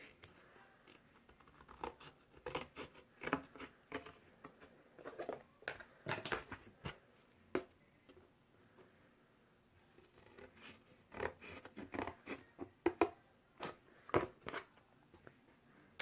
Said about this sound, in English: you can just take scissors and cut out those 4 corners